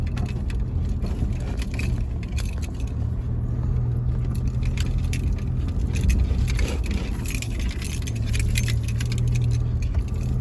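A car arrives along a rural rice-field track, its steady engine rumble continuous and fairly loud throughout, with rattling jangles and knocks over it and no talking.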